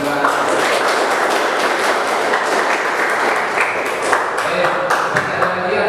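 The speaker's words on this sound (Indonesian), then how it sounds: "kasih tepuk tangan semua" Children in a classroom applaud together, a dense continuous clatter of many hands held steady for several seconds, with a few louder individual claps near the end.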